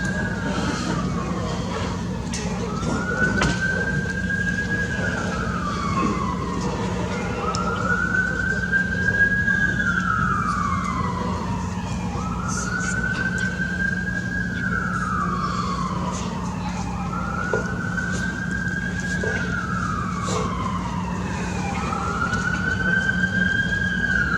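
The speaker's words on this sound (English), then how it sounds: "Unfortunately, the sirens don't fit in" Emergency vehicle sirens wail, sweeping up and down in repeated slow cycles, steady and fairly loud over a constant low hum, with faint voices underneath, during an outdoor Christmas tuba concert in Atlanta.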